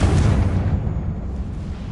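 Confringo blasting spell going off in Hogwarts Legacy, a loud, rumbling explosive burst that holds heavy and dense throughout before easing slightly toward the end, with no voices.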